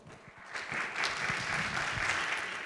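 An audience at a medical congress on pain management applauds to welcome a speaker, a dense wash of clapping that swells within the first second and holds steady, moderately loud and heard from within the hall.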